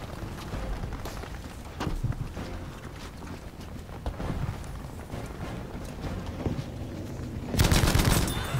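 Dense, continuous gunfire in the shooter game Battlefield V, rapid cracks blending into a constant loud roar with a heavier burst near the end; no talk.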